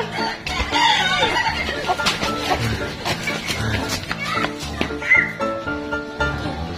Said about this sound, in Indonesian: Ini ayamnya.